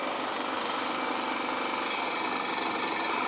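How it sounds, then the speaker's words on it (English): Grinding on the caliper bolts of a 1987 Toyota Corolla AE86 during a front brake rebuild, a steady, loud abrasive whine with a rough rasping texture that runs continuously and close up, with no talk. "Grind the bolts for the calipers"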